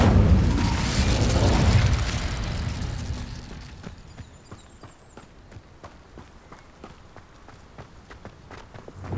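An Incendio fire spell cast in Hogwarts Legacy bursts out as a loud, roaring blast of flame that fades within two seconds, followed by a quieter run of steady footsteps.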